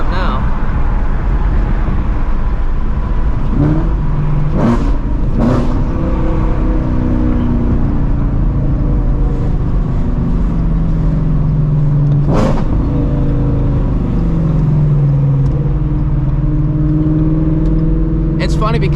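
A Ford Shelby GT350 V8 pulls hard under full acceleration from inside the cabin, its engine note rising and falling through gear changes in a loud, continuous roar, with brief talk in between.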